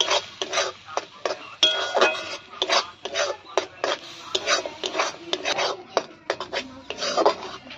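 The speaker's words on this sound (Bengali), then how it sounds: "এবার চিনি দিয়ে টক পালংটাকে আমি ভালো করে নাড়িয়ে নেব" Sugar-sweetened sour spinach chutney being stirred in a pan, giving a steady run of close scraping and rasping strokes with light metallic clinks against the pan.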